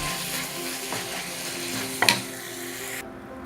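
Pork and basil stir-frying in a pot for Thai pad krapao moo, a steady sizzle running throughout with a brief sharp scrape of stirring near the middle before the sound drops away at the end.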